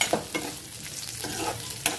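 Onions and other ingredients for a paneer tomato curry fry in a pan with a soft, continuous sizzle, broken by a series of brief scraping strokes as a spoon stirs them. Close and fairly quiet, with no talking.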